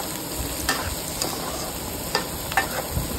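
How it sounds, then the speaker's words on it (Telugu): Drumsticks frying in a pan with salt and turmeric, giving a steady close sizzle with occasional sharp clicks and scrapes from stirring. No one speaks. "ఉప్పు పసుపుతో మునక్కాయలు అనేవి ఫ్రై అయిపోవాలి"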